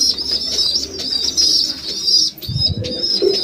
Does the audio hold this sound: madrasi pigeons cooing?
yes